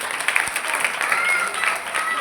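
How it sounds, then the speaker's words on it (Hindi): An audience at a Shrimad Bhagavat Katha gathering in Sector 17, Panchkula, gives a short burst of dense, steady applause, with a voice speaking over it. "जोरदार ताली आपके लिए।"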